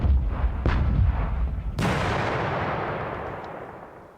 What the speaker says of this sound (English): Select the artillery mines option to fire artillery mines into the target hex.